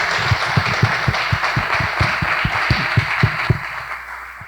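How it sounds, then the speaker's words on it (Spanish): An audience at a book presentation claps steadily, with many hands giving a dense patter and several sharper claps standing out, tapering slightly at the end. "Vamos a darle un fuerte aplauso,"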